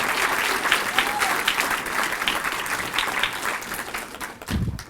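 Audience applause for upper school Latin students at a school Founders' Night ceremony, a dense sustained clapping from a full crowd that continues steadily and fades near the end.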